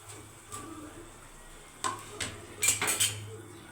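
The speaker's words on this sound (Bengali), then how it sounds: "দেখো 1 মিনিট কিন্তু ফুটে গেছে, আমি এই সবগুলো বড়া কিন্তু দিয়ে দিচ্ছি" Lentil fritters (masoor dal bora) go into a pot of boiling gravy. Faint bubbling runs underneath, then several soft clinks and plops from a spoon and pot come in a short cluster near the end.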